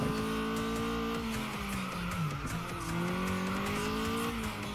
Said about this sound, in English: I was not expecting the car to drive like that